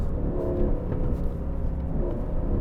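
A 2019 Aston Martin Vantage engine roars at speed, a dense, loud, low rumble with rising revs heard close and continuous, with no talk over it.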